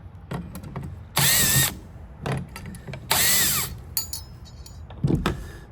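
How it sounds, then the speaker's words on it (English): A power screwdriver backs screws out of the operator plate on a Stanley Magic Force automatic door, giving two loud sustained whirring runs close by, with clicks, taps and handling noises between them. "we're going to pull these 4 screws out and this plate will come off"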